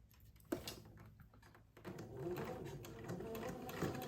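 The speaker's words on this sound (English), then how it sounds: "Then you sew over the pleats and the smocking." Domestic sewing machine stitching over pleats and smocking on an heirloom garment, a quiet mechanical whir that starts briefly, pauses, then runs steadily with soft rhythmic clatter, close and alone.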